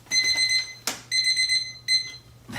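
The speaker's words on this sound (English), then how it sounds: "That was a timer to remind me to prime something that I have outside that I'm working on" A timer alarm beeps in a workshop, sounding three loud bursts of rapid electronic beeping separated by short breaks, with no voices over it.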